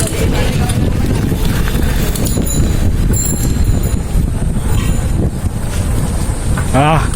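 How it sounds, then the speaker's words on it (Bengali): Wind roars and buffets steadily while riding a motorcycle out on the road with a group of riders, a loud, continuous rush that lasts throughout, with muffled voices faintly underneath. "একটু হাওয়াটা আসছে।"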